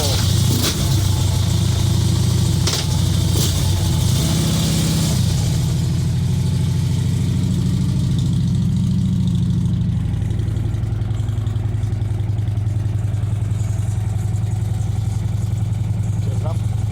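Three-wheeler motorbike engine cranking and catching with sharp pops, then settling into a loud, steady low idle thrum close by, with someone talking near the start.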